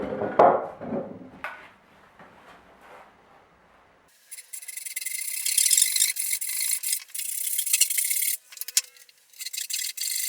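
Cutting a notch into a desk frame where it meets a metal wall beam: a few soft rubbing scrapes at first, then from midway a sustained, loud, raspy grinding cut that runs steadily with brief pauses.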